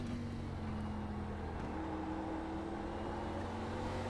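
An ARCA stock car engine at Summit Point in iRacing holds a steady drone under partial throttle, a low continuous hum with a slight pitch shift midway, close and even in level.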